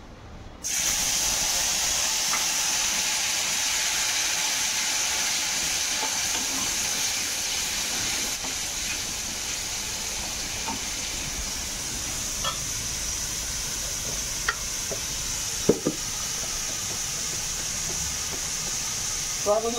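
A spice mix is poured into a hot pan of tomato, garlic, green chili and pepper for an egg and paneer dish. A sudden loud hiss of sizzling starts almost at once and continues steadily, with a few faint clinks.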